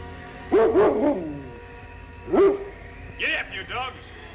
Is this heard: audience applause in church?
no